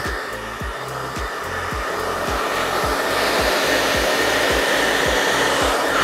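A hair dryer on low heat blows steadily on synthetic hair, a loud, continuous airy whoosh that runs the whole time, with a faint regular low pulsing beneath it.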